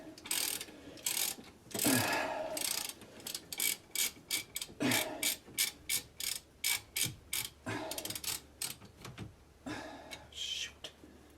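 A ratchet wrench clicks in quick repeated bursts while working bolts on the rear wheel hub of a Chevrolet Traverse, close and fairly loud, with a few longer grinding turns in between.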